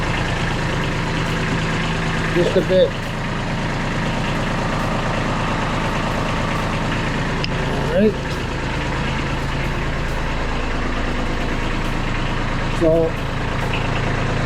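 A Kubota B2301 compact tractor with a BH70 backhoe attachment idles steadily as a low, continuous diesel drone, with someone talking over it and a few brief clanks.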